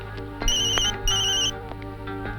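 A telephone rings with a bright electronic ringtone in two short bursts, loud and close, over a steady low background hum with no voices.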